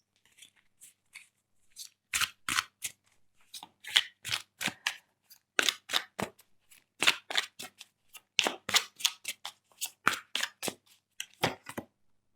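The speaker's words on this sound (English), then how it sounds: "Let me pull out a couple more cards." Tarot cards pulled and shuffled from a deck, a long series of crisp, close riffling and snapping bursts in uneven rhythm, some sharp and loud, with quiet gaps between and no talking.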